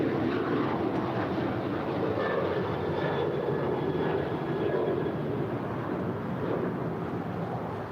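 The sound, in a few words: United Boeing 737-900ER departing LAX to Denver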